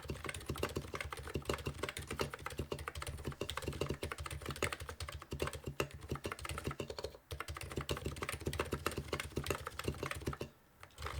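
Continuous rapid typing on a custom full-size EC keyboard sitting flat: dense, even clacks close up, with a brief pause partway through, and no voices.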